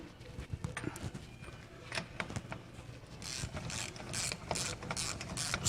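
A hand ratchet clicks in short bursts while snugging a nut on the steering and brake assembly of a 1996 Buick Roadmaster B-body, with rapid close pawl clicks growing denser and louder toward the end.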